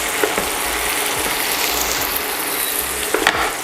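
Onion sautéing in butter in a pan, a loud, dense, continuous sizzle close up with faint scraping and stirring knocks, no voices.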